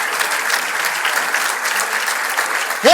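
A crowd of young people at a governor's address bursts into loud, continuous applause, dense clapping that stays steady for about three seconds before a brief voice cuts in at the very end.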